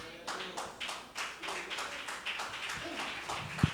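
Church congregation clapping hands in rhythm during a sermon, steady repeated claps of many people in a hall, moderately loud with faint voices underneath.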